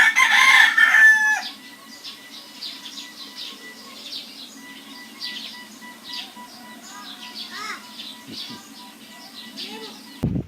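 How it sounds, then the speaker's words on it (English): Chickens cluck and a rooster crows in a rural yard in Lubao, Pampanga, with a loud burst of crowing at the start followed by softer scattered clucks and calls under a steady low hum. "Look at the chicken."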